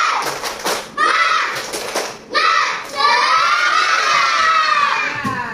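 Children in a classroom shout together in bursts, a short rhythmic group cheer with quick clapping, loud and close, with breaks between the phrases.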